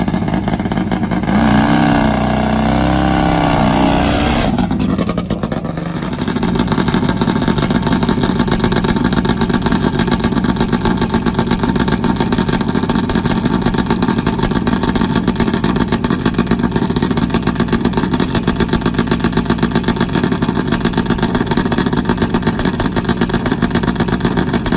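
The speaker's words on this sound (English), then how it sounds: "Another nice clean launch, Tim Kerrigan." A Top Fuel nitro Harley drag racing motorcycle launches with a loud, sustained engine roar that barely lets up. A short revving burst comes first, then a steady, dense drone that stays close throughout.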